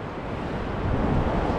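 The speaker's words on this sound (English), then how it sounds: "We have 1 foot waves, fairly calm, almost no wind" Small, calm ocean surf about one foot high breaks gently on a beach in almost no wind, a steady soft wash of water and light wind rumble, with no voices.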